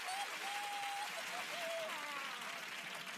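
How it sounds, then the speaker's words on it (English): Studio audience applause during a children's TV interview show, a steady broadband wash of clapping heard fairly distant and even throughout, with a brief tonal whistle-like line over it and no clear talk. "he'll give you a round of applause anyway"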